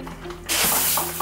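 A spray bottle hisses out a continuous burst of water mist onto window tint film, a sudden close broadband spray starting after a quiet moment and holding steady.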